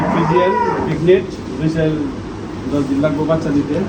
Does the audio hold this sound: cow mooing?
yes